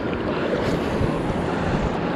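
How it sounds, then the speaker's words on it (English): Rough ocean waves crash and wash steadily onto a beach, a loud continuous roar of surf mixed with gusty wind buffeting the microphone, with no voices. "We got some rough waves today"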